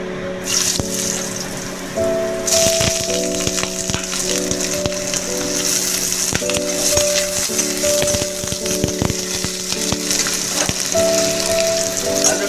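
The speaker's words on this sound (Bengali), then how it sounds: "তেলটা গরম হয়ে গেছে, এবার দিয়ে দেবো আলুটা।" Potatoes fry in hot oil, giving a steady bubbling sizzle with a brief louder burst near the start, along with a faint tonal hum and scattered clicks.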